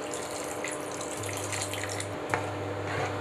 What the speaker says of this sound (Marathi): तर ह्याच्यामध्ये घालणार आहोत आता आपण पाणी।